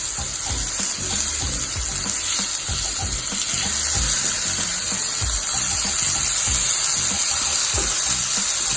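Raw banana slices fry in hot oil with a steady, dense sizzle that runs without a break, close and fairly loud, with a faint watery bubbling underneath.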